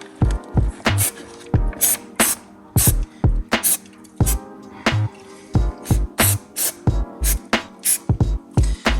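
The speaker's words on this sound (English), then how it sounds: "I'm gonna just spray on those" Aerosol spray blasted onto a car brake rotor during a brake pad and caliper change, a series of loud hissing bursts of varying length with short pauses between, close and dominant.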